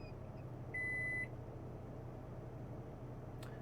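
A single steady electronic beep from a power inverter after tripping in a truck, about half a second long, sounds over a low constant hum, followed by quiet background noise.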